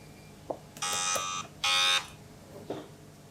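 Two harsh electronic game show buzzer blasts sound in quick succession, each lasting about half a second, with faint thumps around them.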